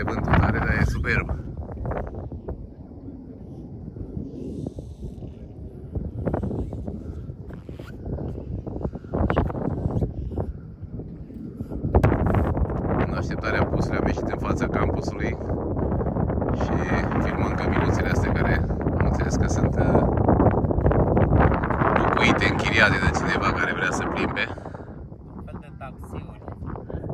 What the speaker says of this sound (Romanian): Bate vântul tare, dar e superb.